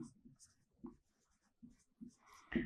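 Marker or chalk strokes on a board during a French geometry lesson: soft, brief scratchy taps in a quick irregular rhythm, close but faint, ending in a louder knock.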